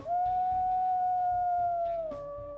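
A single long wolf howl from the WolfQuest video game, a smooth sustained tone held for about two seconds that then steps down lower near the end, clear and alone.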